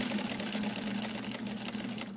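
A Singer Featherweight sewing machine stitches quilting fabric using a walking foot, a steady, close mechanical whir with a fast, even needle rhythm throughout.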